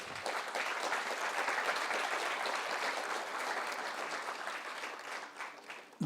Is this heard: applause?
yes